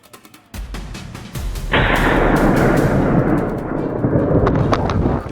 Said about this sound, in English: I kept a close eye and fired several consecutive shots